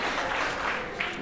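A church congregation claps excitedly, a soft continuous patter of applause heard from a distance, fairly faint, lasting just over a second.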